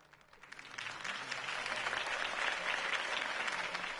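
Crowd applause swells at a campaign rally for Harvey Dent in Batman: The Telltale Series, starting thin and building into steady, dense clapping that fills the rest of the clip.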